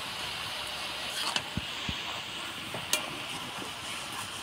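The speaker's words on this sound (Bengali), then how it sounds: "শাকটা ভালো করে নাড়াচাড়া করে নিলাম" Mixed leafy greens (twelve-green mix) seasoned with salt, green chilli and turmeric get stirred in a pan, a steady soft sizzle with a few faint scraping clicks, close and low, no talking.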